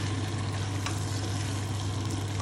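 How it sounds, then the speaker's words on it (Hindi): Chicken korma with yogurt fries in a pot, giving a dense, unbroken sizzle over a steady low hum, close and fairly loud throughout. "इसको दही को डाल के इसको मिक्स कर लें अच्छे से और इसको भूनने दें"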